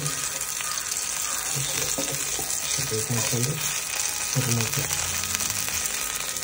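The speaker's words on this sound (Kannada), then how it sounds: "tomato fry ಆಗುಂಡು" Tomatoes frying in a pan for an egg burger, giving a steady close sizzle with some stirring, with faint voices murmuring briefly in the middle.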